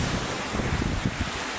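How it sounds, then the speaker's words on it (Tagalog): Big ocean waves roar onto the beach in rough weather after a typhoon, a loud, continuous wash of surf mixed with wind buffeting the microphone. "Ang lakas pa rin ng alon."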